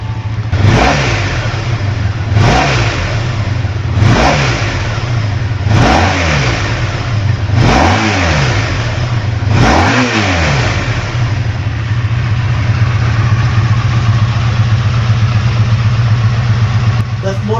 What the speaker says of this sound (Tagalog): liquid-cooled V4 power plant delivers around 82 horsepower with a smooth power band and that distinctive V4 growl